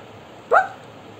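A single short bark-like yelp rising and falling, voiced by a person imitating a dog while telling a children's story about two dogs, heard alone and fairly close.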